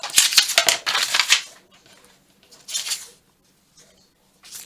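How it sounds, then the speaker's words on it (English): Scissors snip roughly through paper ephemera at a craft table, two quick bursts of close crisp cutting followed by a softer snip and near silence. "I want to cut this out roughly"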